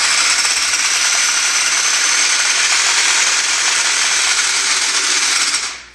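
An RC Chevrolet Blazer puller truck running in low gear, a steady loud whine of spinning gears and motor held evenly throughout before cutting off sharply at the end.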